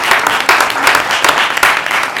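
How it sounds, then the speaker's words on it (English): Loud, dense applause from a crowd at a school board meeting, steady clapping throughout with no pauses. "we want to applaud her"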